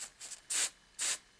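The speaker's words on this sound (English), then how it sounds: "So just taking some air spray from a distance," An aerosol spray can is aimed from a distance over a face-paint design of one-stroke roses, giving a few faint short hisses and then two longer, louder bursts, each about a fifth of a second, with no talk.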